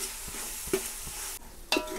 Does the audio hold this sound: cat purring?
no